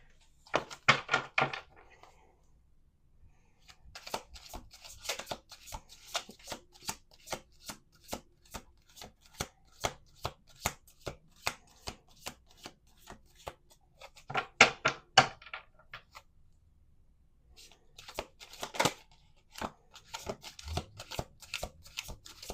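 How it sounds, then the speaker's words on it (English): A deck of cards is shuffled by hand several times in bursts of rapid riffling flutter, separated by quiet pauses, close and moderately soft. "2 more shuffles."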